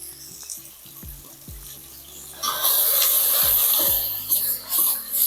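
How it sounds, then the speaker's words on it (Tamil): Tomatoes sauté in a pan for a tripe curry with small onions and grated coconut, a soft sizzle with a few scraping stirs that swells into a louder, steady frying hiss partway through. "இந்த அளவுக்கு நல்லா தக்காளியெல்லாம் நல்லா வதங்கிருக்கு"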